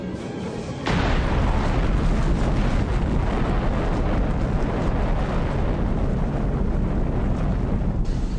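Atomic bomb explosion, the Fat Man plutonium bomb dropped on Nagasaki: after a near-silent start, a sudden loud roaring blast settles into a sustained, dense rumble that fills the rest of the clip, with no voices.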